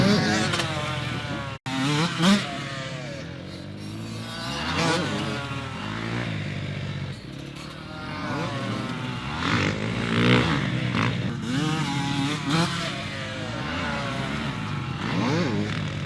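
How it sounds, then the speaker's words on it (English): A TM dirt bike held in a wheelie, its engine revving and surging up and down under clutch control, loud and close with a buzzy, wavering pitch throughout. "That wheelie is not possible without really good clutch control and knowing how to control that bike."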